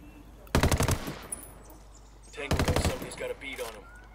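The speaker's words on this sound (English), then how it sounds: "I love these gun sounds." Machine gun fire in the video game Ghost Recon Wildlands: two rapid automatic bursts with short echoing tails, followed by a few scattered shots, moderately loud against a low background.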